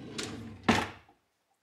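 A kitchen drawer in a home daycare corner gives two quick wooden knocks as it slides and bumps shut, close and fairly soft, then silence.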